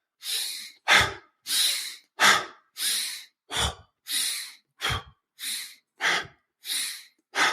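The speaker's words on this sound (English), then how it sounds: "it's sort of a fast, hyperventilating breath" Fast, hyperventilating breaths taken with the mouth open, about a dozen sharp inhale-exhale bursts in quick regular rhythm, close and fairly loud, with no speech.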